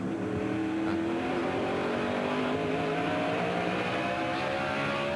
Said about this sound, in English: And Mike, you can hear how delicately you have to handle that throttle